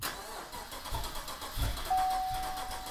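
A V8 engine tuned to run as six cylinders cranks on a 50-amp boost, a brief, faint starter churn with a rising mechanical burst that does not catch, heard alone.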